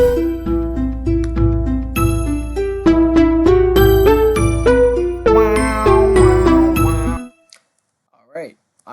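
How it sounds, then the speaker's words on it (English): A Ghazt, a ghostly monster from My Singing Monsters, sings a loud, bright melody of chiming, bell-like notes that stops abruptly near the end, followed by a short faint wavering tone. "I just found a really good Ghazt sound."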